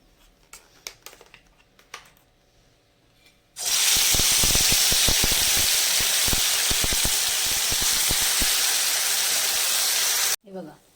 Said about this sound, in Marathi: मसाला असा तेल चांगलं असं चारी बाजूनी तेल सुटेपर्यंत चांगला बारीक गॅसवर भाजून घ्यायचा आहे